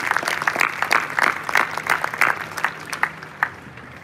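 Crowd at a military college Memorial Day parade outdoors clapping in scattered, uneven bursts for a few seconds, fairly close and thinning toward the end.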